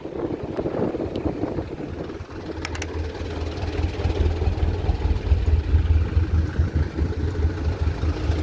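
Cars and tour buses idle in a holiday traffic jam on the road from Padang Panjang toward Bukittinggi, a steady low engine rumble mixed with gusty wind noise, continuous and fairly loud with no talking.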